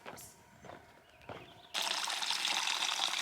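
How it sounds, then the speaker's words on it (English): On the Pacific Crest Trail, faint rustling and a few soft knocks, then a steady, loud rush of cold water flowing from a culvert starts abruptly and continues to the end. "Fresh, cold culvert water."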